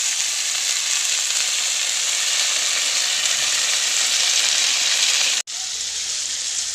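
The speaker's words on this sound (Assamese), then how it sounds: "ইয়াতে ঢেকীয়া শাকখিনি ভাজিম।" Dhekia fern greens fry with onion in a pan, giving a loud, steady sizzle that runs unbroken, cuts off for an instant near the end, then resumes.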